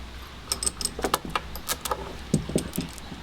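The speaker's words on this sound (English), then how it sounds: "I squeeze the chain together" Metal chain on a mill waterwheel gate being handled and squeezed together, a close series of light jangling clinks and rattles in irregular bursts.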